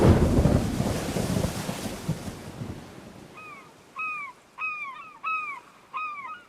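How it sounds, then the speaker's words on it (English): Thunder from a storm at sea rumbles low and loud, rolling and fading over a few seconds, then a crow caws about five times in sharp, evenly spaced calls against a quiet backdrop. "there's a storm at sea"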